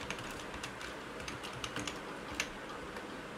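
Someone types a for loop on a computer keyboard, with rapid, uneven, close key clicks throughout and no voice.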